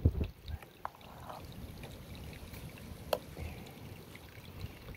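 Water runs steadily through a gold prospecting sluice set at a steep angle and fed slowly by a pump, giving a constant low wash and trickle with a few small splashes near the start and one sharp tap about two thirds through.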